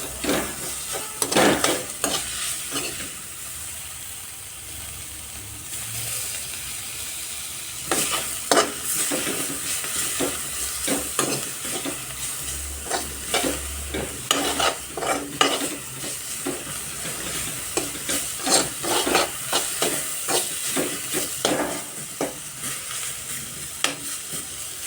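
Coriander leaves fry in oil while a spoon stirs them in the pan, a continuous close sizzle punctuated by repeated rhythmic scraping strokes throughout, with no talking.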